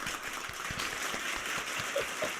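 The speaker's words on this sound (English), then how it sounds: "Let's give one more round of applause for Miss Khan Jung" Audience applause for a guest on a pastor's afternoon show, a soft, steady patter of clapping heard faintly and evenly throughout, with no talking over it.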